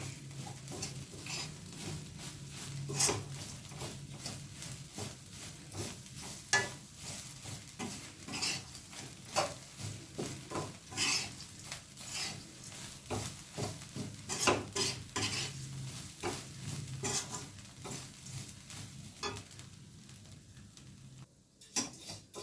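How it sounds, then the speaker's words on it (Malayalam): A utensil scrapes and stirs repeatedly through coconut and flattened rice dry-roasting in a pan, with steady clinking strokes and a faint crackle underneath, close and moderately loud. "നാളികേരവും അവിലും നന്നായിട്ട് വറുക്കുക."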